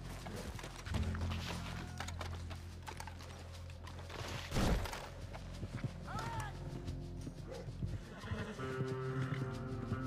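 Quiet horse hooves clip-clop in the game Red Dead Redemption 2, a soft irregular plodding beneath ambient game sound, with voices speaking over parts of it.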